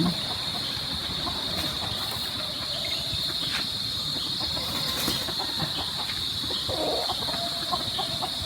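Gamecocks cluck and murmur in the background over a steady high insect drone, with faint rural ambience throughout, in Guinobatan, Albay, Philippines.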